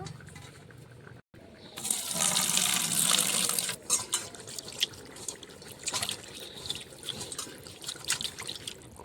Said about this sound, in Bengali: এখন এগুলো ভালো করে পানি দিয়ে ধুয়ে নিব